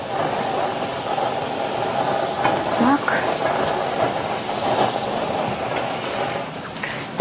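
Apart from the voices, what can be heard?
zucchini sizzling in a hot frying pan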